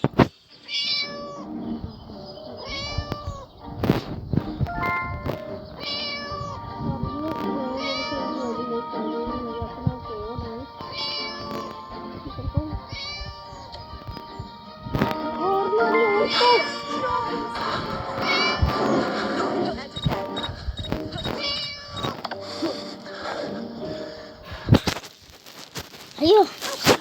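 A house cat meows repeatedly at close range, short mewing calls scattered over a cluttered domestic background with occasional thumps and background voices.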